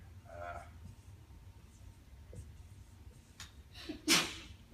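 A single sharp sneeze bursts out near the end, after a few quiet breaths and faint background noise.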